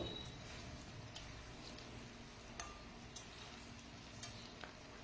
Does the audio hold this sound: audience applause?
no